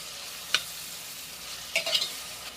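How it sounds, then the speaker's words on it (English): Diced onion frying with popping seeds and curry leaves is stirred in a pan, with a quiet steady sizzle and two brief spoon scrapes, close but soft. "just add about a medium-sized onion diced into it. Make sure to mix it nice and well"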